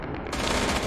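Tank cannon shot in War Thunder, a heavy broadband blast that erupts about a third of the way through and carries on as a loud, dense rumble to the end, with no talking.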